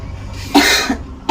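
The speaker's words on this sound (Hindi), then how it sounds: "खांसी आ गई, मिट्टी बहुत है" A single person coughs two or three times nearby in a dusty shop, short harsh bursts separated by a brief pause, with no talking over them.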